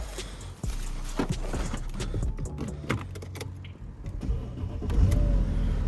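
A car engine cranks and turns over amid clicks and jangling, then settles into a low rumbling idle near the end.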